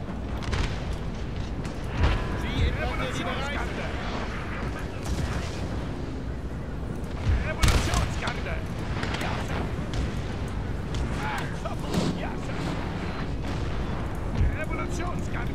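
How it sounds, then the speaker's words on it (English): Cannon artillery fire from a Napoleonic-era battle in Napoleon: Total War, with scattered booms and musket crackle over a dense, continuous roar of battlefield noise. "Cannons, hold your fire."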